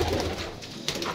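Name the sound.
pigeons cooing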